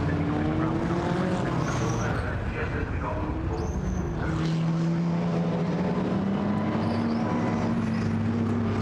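GT4 European Series race cars roll through the pit lane at Brands Hatch, engines droning and shifting pitch as they pass at moderate distance, under continuous commentary.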